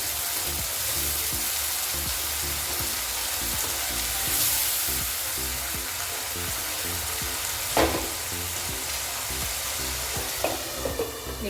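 Tomato puree frying with onions in a pan for chole, a steady dense sizzle with a rhythmic scraping stir and a few sharper clinks near the end.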